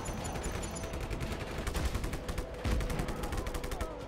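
Just Cause 3 video game gunfire: rapid, loud bursts of automatic shots that run continuously, with heavier booming thumps mixed into the barrage.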